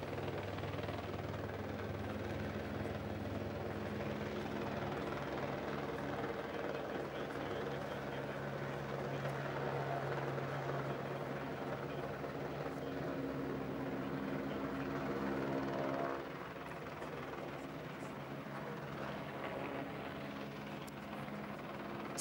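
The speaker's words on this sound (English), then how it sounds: "as we wait for that helicopter to land just behind us" Helicopter landing behind a roadside broadcast position at Land's End during the 2012 Olympic torch relay, a steady loud rotor and engine drone holding throughout, easing slightly toward the end as it settles.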